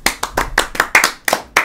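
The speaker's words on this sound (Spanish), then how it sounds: "Aplausos." Clapping from a single person, about eight sharp, evenly spaced claps in quick succession, close and loud with nothing else behind them.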